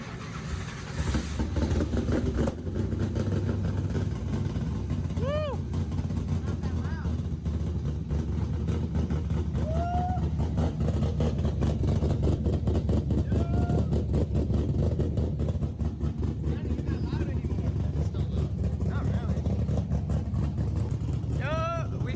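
An LS-swapped Nissan 350Z with a straight-piped exhaust runs steadily at a low, rumbling idle for a long stretch, moderately loud and close, with people talking intermittently over it.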